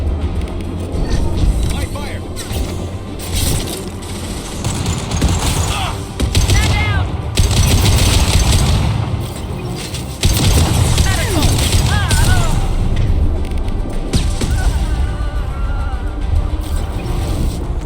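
Sustained gunfire and impact bursts from a firefight in the Mass Effect 2 video game, loud and continuous with booming hits, mixed with voices talking throughout.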